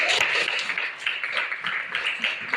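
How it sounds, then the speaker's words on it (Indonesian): A high school class in Indonesia claps hands together at the teacher's request, a dense, steady patter of many hands that carries evenly for a couple of seconds. "kalau menyenangkan tepuk tangan dulu"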